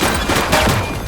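Rapid gunfire in The Precinct police video game, a loud, dense burst of shots lasting about a second with no speech.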